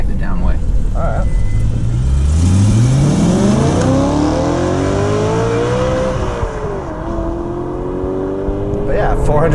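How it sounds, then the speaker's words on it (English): An E92 BMW M3 with the S65 V8 revving while driving: a loud, close engine note climbs steadily through the gears, eases off, then holds a lower drone, with road noise throughout. "awesome V8, a lot of engine noise."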